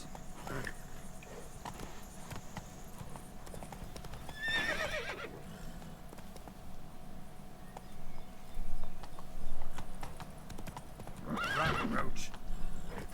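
A horse in The Witcher 3 video game clops its hooves steadily at a walk, with two loud whinnies breaking in, under ongoing game background sound.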